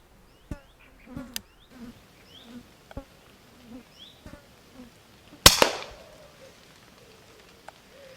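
Flies buzz around a squirrel feeder outdoors, with short intermittent buzzing passes near the microphone, several sharp clicks, and one loud sudden crack partway through that fades into a brief rustle.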